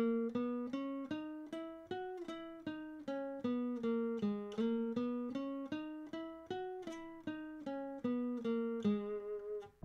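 Plucked electric guitar notes play a rapid, even picking pattern, moving through a steady melodic sequence with no voices.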